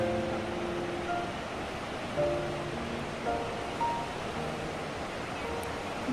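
A waterfall on a mountain hiking trail near a suspension bridge in Switzerland gives off a continuous broadband rushing roar. Faint voices murmur underneath throughout.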